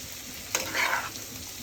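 Chili frying in a pan, a steady close hiss with a brief louder sizzling swell midway, no talk.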